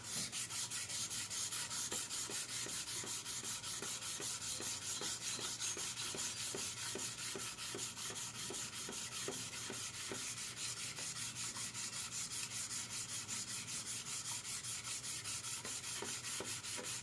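Hand sanding with 320 grit sandpaper wrapped around a spike gives a continuous, rapid back-and-forth rasping that stays even and close for the whole stretch, with no talking.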